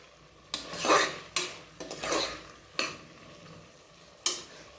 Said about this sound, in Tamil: இந்த மாதிரி வதக்கி விட்டுடலாம்.